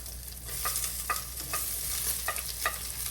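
Onions fry in a pan for a dried fish curry, a soft, steady sizzle under a low hum, punctuated every half second or so by light scraping stirs of a spoon.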